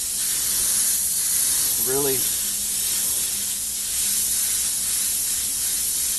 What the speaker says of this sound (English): I'm just going to spray in the middle, and this is going to be the glow.